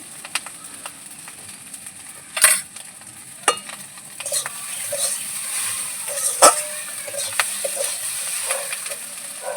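Potatoes fry in a hot pan with a continuous sizzle. Several sharp scrapes and knocks from stirring stand out, with no talking.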